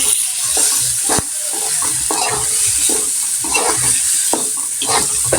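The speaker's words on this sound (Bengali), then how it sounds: "সবগুলোই একসাথে মিক্স করে নিলাম ডিম এবং আলু আর অন্যান্য মশলার উপকরণগুলো" Egg, potato and spices stirred together in a hot pan: a steady loud sizzle with repeated scraping strokes of the spoon, close up and without talk.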